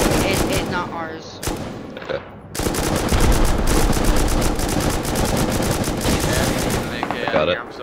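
Rapid automatic gunfire in the video game Rust, aimed at a scrap helicopter, loud dense bursts running almost nonstop with short breaks, voices talking over the shooting.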